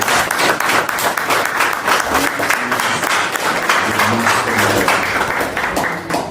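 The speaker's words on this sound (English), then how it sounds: "I want everybody here to give a round of applause to Musa." Audience applause at a launch event for a Senegalese diaspora group in New York, loud and sustained dense clapping filling the room from start to finish, with a few voices underneath.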